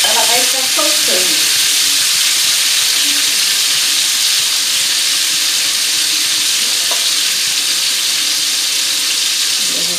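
Pork ribs sizzle and fry in their own rendered fat over high heat, a steady dense crackling hiss filling the whole stretch, with a few faint clinks and no talk.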